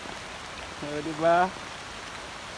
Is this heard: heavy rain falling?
yes